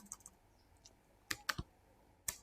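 Keys clatter on a computer keyboard while a query is typed, a few scattered soft taps followed by a short burst of sharp close clicks and one final tap, with no talking.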